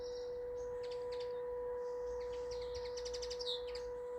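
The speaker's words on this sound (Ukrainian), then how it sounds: "Пташки співають." Small birds chirp and trill in quick, high bursts in the evening, moderately distant, over a faint steady tonal hum.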